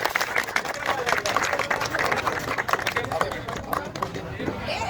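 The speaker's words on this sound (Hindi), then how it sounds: "जोरदार तालियों से उनका स्वागत करें" Villagers at a Holi gathering clap warmly for a dholak player, a dense patter of hands and crowd noise running for several seconds beneath someone talking.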